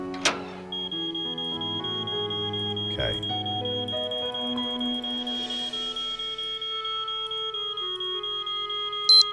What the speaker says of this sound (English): it's still going to set the alarm off